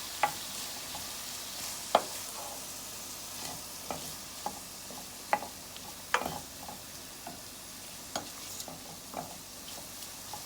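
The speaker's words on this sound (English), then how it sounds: "We're gonna mix that black pepper and salt in there" Vegetables softening in a soup pot are stirred with black pepper and salt, producing a low sizzle beneath scattered sharp clicks and taps of a spoon against the pot at irregular intervals.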